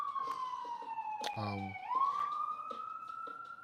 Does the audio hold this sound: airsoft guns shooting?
no